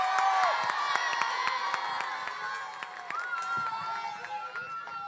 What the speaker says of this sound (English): A huge round of applause for Rabbi Levi Plotkin.